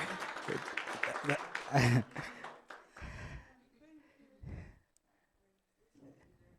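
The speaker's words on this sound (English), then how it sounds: "Let's clap again." An audience at an institutional competition ceremony applauds in a short burst of clapping that fades out, with speech mixed in around it and brief quiet after.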